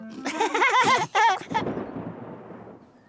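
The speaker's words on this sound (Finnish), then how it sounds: "Ukkonen jyrisi." A cartoon thunderclap begins with a loud, wavering crash, then a rumble that slowly fades away into silence.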